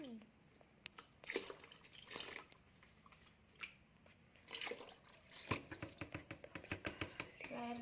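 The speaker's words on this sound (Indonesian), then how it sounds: "kita masukkan air cucian beras ke dalam wadah ini" Rice-washing water poured into a container in a homemade local microorganism preparation, with uneven splashing and trickling close by, broken by short pauses and ending in a run of quick drips; speech is faintly present.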